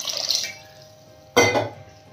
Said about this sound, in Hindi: थोड़ा सा पानी और डालेंगे 1/2 कप